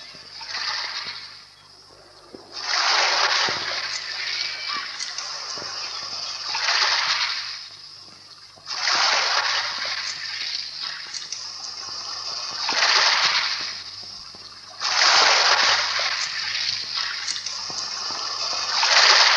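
Sea water surges and splashes on the sandy Caspian shore at Lankaran, arriving in broad rushing swells roughly every few seconds, each building to a loud wash and then receding, with no voices.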